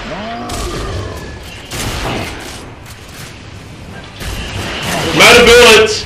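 Gunfire from the video game Gears of War, several bursts of shots crackling over a steady game soundscape, growing louder toward the end, with a voice talking alongside.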